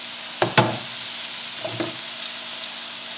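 Scallops pan-sear in butter and olive oil with a steady sizzle, broken by a few sharp clatters of pan or utensil handling near the start and middle. No voices.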